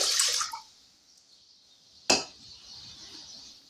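One and a half cups of water poured into a stovetop pan: a brief splashy pour at the start, a single sharp clink around two seconds, then a soft lingering hiss.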